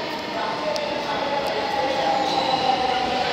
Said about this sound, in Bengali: ট্রেন একটা অলরেডি স্টপেজে এসে গিয়েছে